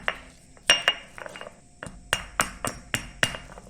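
Sharp, repeated pounding strikes of a pestle crushing peppercorns in a metal mortar, about eight knocks in irregular rhythm, close and clear with no talking.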